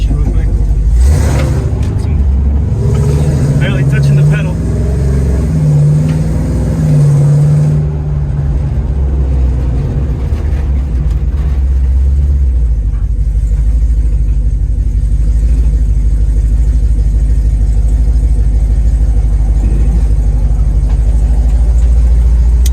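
A 1969 Dodge Charger with a swapped-in Hellcat engine rumbles deep and heavy as it drives, with a rev swell early on before settling into a loud, steady low drone; voices talk over it near the start.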